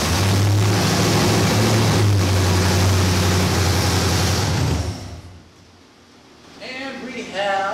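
A 1981 Camaro Z-28 V8 engine runs loud and close with a rough, steady rumble for about five seconds, then drops away and a voice speaks over it.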